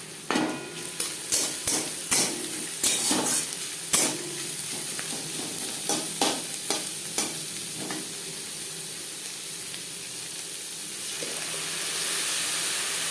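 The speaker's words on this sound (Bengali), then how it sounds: "2-3 মিনিট পেঁয়াজ ভেজে নেওয়ার পর দিয়ে দেবো রসুন" Onions and crushed garlic fry in a pan for an omelette curry, a steady sizzle broken by a burst of sharp spoon scrapes and taps in the first half, then a smoother hiss that swells slightly toward the end.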